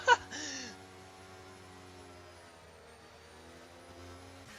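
Formula 2 cars accelerating together at a race restart on a Las Vegas circuit in a racing video game, a steady droning engine note holding throughout after a short sharp burst at the start.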